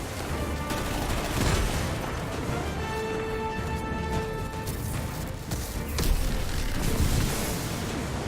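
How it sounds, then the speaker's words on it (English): Gunfire in Destiny 2, a dense, continuous stream of shots and impacts at fairly low level, running without pause under a busy game soundscape with occasional tonal effects. "Stop shooting me!"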